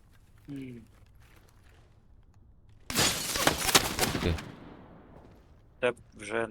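A rapid volley of gunfire in the video game Arena Breakout: Infinite bursts out for about a second and a half, loud and dense, with people talking before it and a few sharp shots after.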